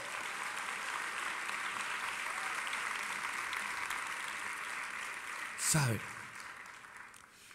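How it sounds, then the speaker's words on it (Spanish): A church congregation applauds in a continuous, fairly distant wash of clapping, with a brief spoken word cutting in near the end. "Denle un aplauso al Señor de la gloria"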